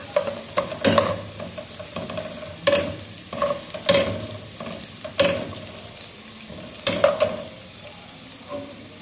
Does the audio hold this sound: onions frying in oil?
yes